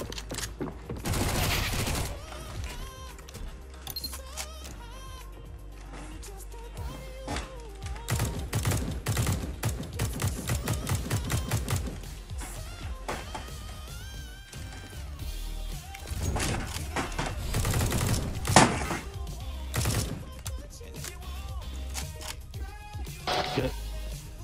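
Rapid video game gunfire bursts crackle loudly through a busy in-game soundscape, with dense volleys clustered early and again in the middle, some shots sounding close and sharp.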